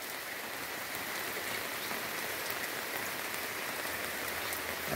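Heavy rain pours steadily during a thunderstorm, a dense, even roar of drops drumming on surfaces that stays constant and loud throughout, with no voices.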